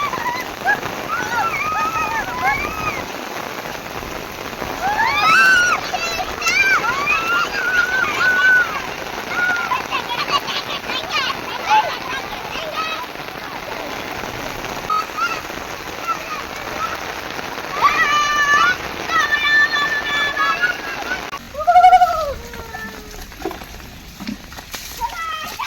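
Heavy rain pours down steadily, close at hand, with voices rising over the downpour at times.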